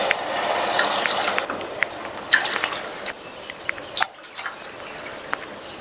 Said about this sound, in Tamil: நம்ம இப்போ தண்ணி சேர்க்கணும்.